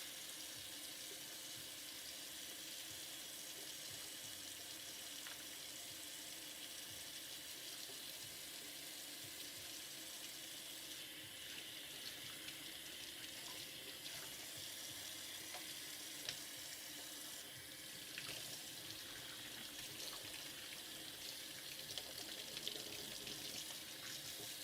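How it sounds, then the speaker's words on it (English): Dried chiles rinsed under a running kitchen sink tap, a steady hiss of flowing water with faint clatter and splashes as the peppers are handled. "I'm just gonna take these over to the sink real quick. Give them just a little bit of a rinse."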